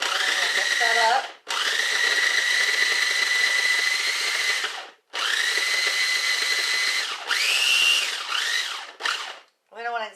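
Small kitchen blender whirring in several loud bursts of a few seconds each with brief stops between, its motor pitch steady and then dipping as the ingredients churn, close up.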